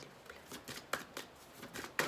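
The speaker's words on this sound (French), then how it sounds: "j'ai envie de tirer une autre carte" Oracle cards being drawn and shuffled by hand, several quick papery riffles and snaps with sharper flicks, close and fairly quiet with no voices.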